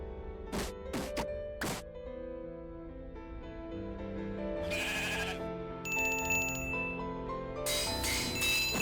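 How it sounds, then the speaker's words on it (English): Sheep in Minecraft bleat in several short wavering calls over game background sounds, loud and close, with clinks and chimes mixed in later. "tried to rename a sheep to Jebriel myself"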